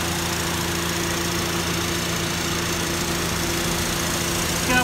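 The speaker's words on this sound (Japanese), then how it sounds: "はい、エンジンかけてみました。" A Honda Civic Type R FD2's K20 engine, around 90,000 km old and fitted with an aftermarket FEELS muffler, idles after a cold start with a steady, even hum from close by.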